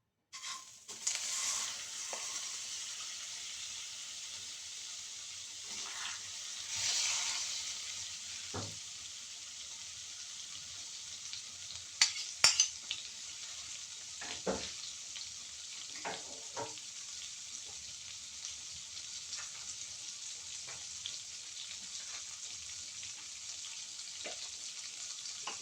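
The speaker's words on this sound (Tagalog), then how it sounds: "Mainit na yung ating frying pan. So, lalagyan ko siya ng butter." Butter sizzles steadily in a preheated frying pan, a continuous bright hiss with occasional louder crackles and pops partway through, close and fairly quiet, with no talking.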